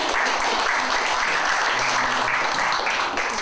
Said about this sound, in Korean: 우리 서로에게 환영의 박수를 보내드리면서 용산 포럼 시작하도록 하겠습니다.